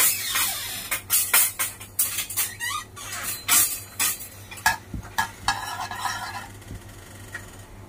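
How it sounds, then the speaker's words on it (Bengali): Dry red chilli and whole cumin frying briefly in hot oil for a homemade fish curry masala, giving bursts of crackling sizzle with spoon scrapes and clinks against the pan, close and fairly loud. "এবার এটাকে 10 থেকে 15 সেকেন্ড একটুখানি হালকা ভেজে নেব"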